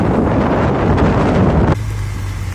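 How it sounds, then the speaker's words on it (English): Strong, steady wind buffets the microphone in an open hayfield in Alberta, Canada, a loud continuous rumble that drops abruptly to a lighter roar near the end. "It's a little windy."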